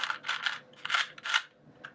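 Loud, crunchy clicking bursts from a Dayan 2x2 speed cube being turned quickly, several rapid clusters of plastic clacks close to the listener.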